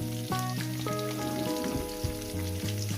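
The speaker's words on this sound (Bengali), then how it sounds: "এবার এটাকে আমি সুন্দর করে চার পাঁচ মিনিট ধরে ভেজে নেব" Vegetable chorchori frying in a pan, a continuous soft sizzle running steadily beneath a melodic music track throughout.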